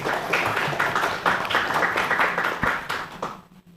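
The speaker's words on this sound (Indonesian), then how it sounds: "Ya, tepuk tangan dulu semua." Graduates and guests at a psychology faculty degree ceremony in Banda Aceh clap together in a sustained round of applause that fades out near the end.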